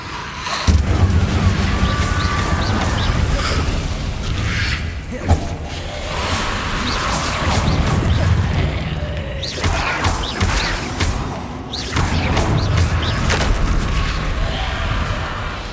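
The Incendio fire spell is cast repeatedly in the Hogwarts Legacy game, with loud bursts of whooshing flame and crashing impacts recurring over a continuous rumble of combat effects.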